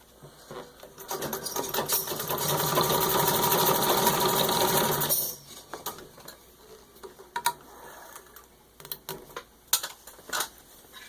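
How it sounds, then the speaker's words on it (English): A serviced antique 1922 Singer 66 Red Eye treadle sewing machine running a full-speed stitch test, loud and close, with a dense mechanical whir for about five seconds, then irregular clicks and knocks as it slows and is handled. "Doing a full speed stitch test."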